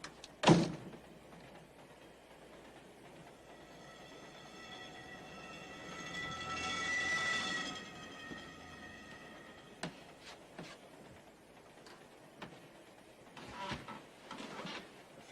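A passenger train runs on its rails in a 1957 film noir, making a low steady rumble with a few sharp clanks and a swell of rattling carriage noise midway, heard faint and alone.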